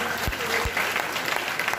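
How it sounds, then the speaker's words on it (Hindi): Audience applause welcoming guests at a Hindi-language gathering, a broad wash of clapping with a couple of low thumps near the start and a steady level throughout. "जोरदार तालियों से स्वागत करें"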